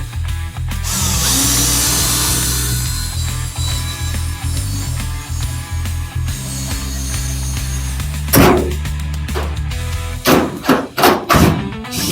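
A 3.5-inch hole saw whines and grinds steadily through wood for several seconds, then cuts off into a series of loud knocks and thumps.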